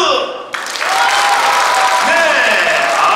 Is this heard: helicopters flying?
no